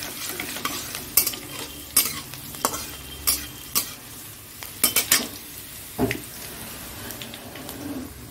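Green chilies sizzle steadily in a hot pan while a utensil scrapes and clacks against it in irregular sharp strokes, close and clear with no talking.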